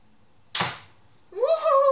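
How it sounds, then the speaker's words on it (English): A single arrow shot from an Instant Legolas Bow: a sharp snapping twang of the released string up close, followed a moment later by a rising tonal whistle or squeal. "The first time that I'm shooting this bow."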